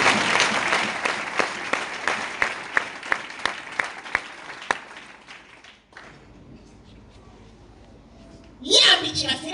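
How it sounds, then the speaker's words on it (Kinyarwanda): A church congregation claps in unison during a sermon, a run of sharp, evenly spaced beats over a crowd murmur. The clapping then fades into quieter room sound before a voice cuts in loudly at the end. "abamurikiye amashyi ku Mana yacu"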